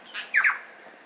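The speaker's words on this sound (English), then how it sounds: "It's a tui bird. It actually sang in G major." A tui on New Zealand's South Island gives a brief, bright burst of two or three clear, musical chirps. The calls are sharp and fairly close against otherwise quiet surroundings.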